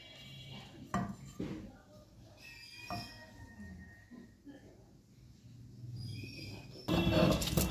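Garlic, green chilli and nigella seeds are ground on a shil-nora grinding stone, with scraping strokes and knocks of stone on stone coming in uneven bursts. A person talks during the grinding.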